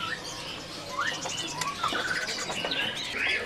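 Busy birdsong of a male oriental magpie-robin at a bird market, with quick chirps and whistled phrases rising and falling, several calls overlapping at close range, steady throughout with no talking.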